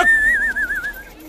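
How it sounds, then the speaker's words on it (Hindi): A loud, close human whistle in a Hindi action film scene: one sustained pitched note that wavers and warbles before fading out, heard alone with no talk. "बिना परमिशन के सीटी बजा रहा है ना?"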